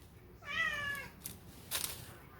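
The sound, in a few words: pet cat meowing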